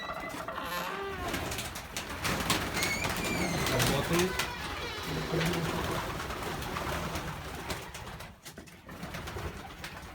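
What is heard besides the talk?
pigeons cooing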